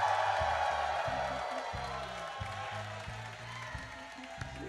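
A sold-out theater crowd cheers and claps in a dense roar that fades slowly. A low, stepped musical tone plays underneath throughout.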